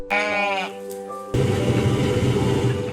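A sheep on a farm in Masimanimba gives a clear, wavering bleat up close. A dense, steady wash of sound with a voice follows it.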